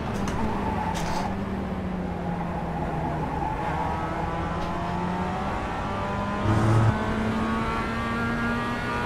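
Mazda MX-5 race car engines in the iRacing game drone steadily at high revs, the pitch gliding up and down through gear changes, with a brief louder burst near the end and no talk.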